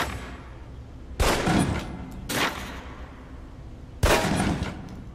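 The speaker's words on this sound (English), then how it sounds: "Equip the pistol, then aim down range and take some shots at the target." Three separate pistol shots fired at a target on a shooting range in Alpha Protocol, each a sharp report with a short decaying tail, spaced a second or more apart.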